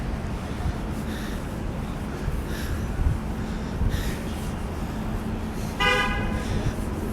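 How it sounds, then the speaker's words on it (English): Busy New York street traffic with cars rushing past in a steady roar, and a loud, brief car horn toot near the end. "Cars honking, speeding around, making noise."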